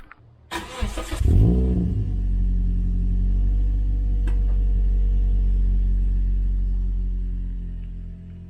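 A Toyota Corolla engine starts with a short whirring crank, then settles into a steady low idle that hums on, with a faint click partway through.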